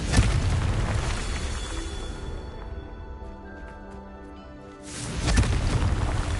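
A Confringo fire spell in Hogwarts Legacy bursts with a loud booming explosion, then a fiery roar and rumble decays over a few seconds before a second heavy blast hits near the end.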